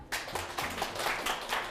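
Audience applause rings out at a Korean lecture show as an author is welcomed to the stage, a steady run of dense, fairly soft claps with no talk.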